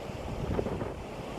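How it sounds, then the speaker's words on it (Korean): A roaring waterfall in a mountain valley, swollen after rain and dropping about 70 m in two tiers, gives a steady broadband rush with wind-like buffeting on the microphone. "해수욕 폭포 자 비가 온 후라서 지금 멋지게 내려갑니다"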